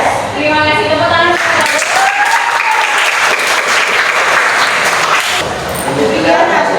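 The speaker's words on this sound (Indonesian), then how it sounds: "Terima kasih, tepuk tangan." A classroom bursts into sustained applause after a group presentation, loud, steady clapping of many hands filling most of the moment, with voices heard at the start and end.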